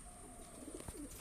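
Pigeons coo in a loft, a few soft, brief throaty coos heard faintly and close together.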